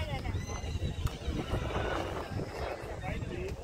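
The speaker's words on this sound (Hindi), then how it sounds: "काफी सिंधी घोड़े ये दोस्तों, जो कच्छ में है" Sindhi horses at a horse race in Kutch: short snorts and whinnies with a few hoof clops, close by and fairly faint, with someone talking over them and crowd noise behind.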